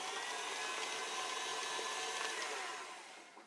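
An electric hand mixer whirs on high speed through angel food cake batter, a steady close-up motor hum that holds even and then eases slightly near the end.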